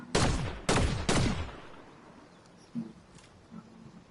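Three sharp weapon shots fire in quick succession in Fortnite, loud and close with ringing tails, followed by quieter scattered game sounds.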